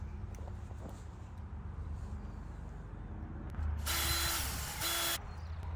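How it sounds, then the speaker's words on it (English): Screws being driven into a plastic septic tank riser lid, a low mechanical whir and ratcheting under quiet background, rising to one loud harsh buzzing burst of a power driver for about a second and a half near the end. "The lid comes with 4 screws, so I'm just going to go ahead and put those in now."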